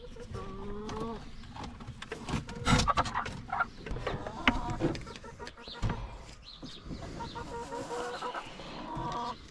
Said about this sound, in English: 2 chickens plus our wild rooster, Roger, to now 6 chickens and a rooster.